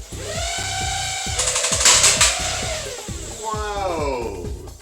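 A toy Uzi rapid-fire blaster shoots, giving a fast rattling burst of regular clicks over a rising and falling motor whine. It stays close and fairly loud throughout.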